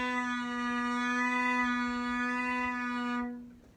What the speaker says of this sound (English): You are instead starting on the edge of your finger and rocking it up and back on the string